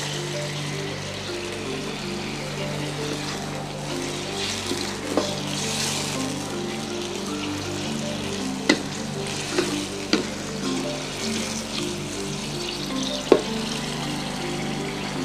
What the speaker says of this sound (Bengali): মশলাটা ফুটে গেছে এখন দেব এতে চিংড়ি মাছগুলো এই যে দিয়ে দিলাম চিংড়ি মাছ